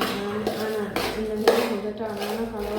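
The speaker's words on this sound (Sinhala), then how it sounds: "දැන් හොඳට කලවම් කරන්න ඕනේ" Cutlet mixture being mixed in a bowl, a few clinking scrapes of utensil against dish at a steady pace, close and moderately loud.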